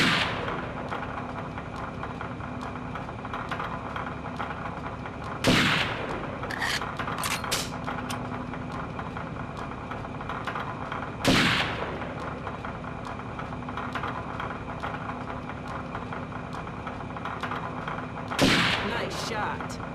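Gunfire in the video game Second Sight: a few loud, widely spaced shots ring out over a steady droning game soundtrack.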